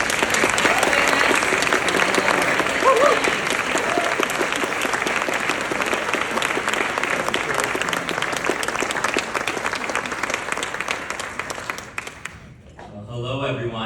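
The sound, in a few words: audience applause welcoming speaker Stephen Kurt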